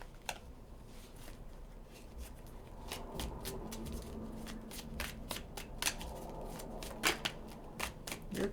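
A deck of tarot cards is shuffled close by in quick, irregular bursts of riffling and flicking, the crisp card noises coming in clusters over a faint background.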